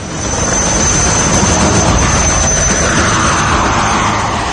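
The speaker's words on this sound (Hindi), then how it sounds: "ऊपर उठने के बाद हेलीकॉप्टर ने हवा में घूमना शुरू कर दिया" Loud, steady roar of a military helicopter's engine and rotors taking off, constant and close, with a high whine running through the whole stretch.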